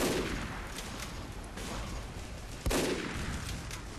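Team Fortress 2 gunfire, heard as a dense rushing barrage of game shots and blasts with a sharp louder hit near the end.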